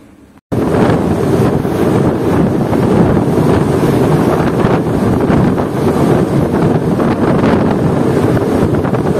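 Strong, roaring wind over the Sea of Japan buffets the microphone continuously after a short quiet start, loud and unbroken, with a rushing sea-like wash underneath.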